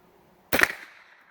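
A single sharp crack from a .22 rifle firing Russian ammunition, brief and moderately loud against a quiet outdoor background, with a short decaying tail.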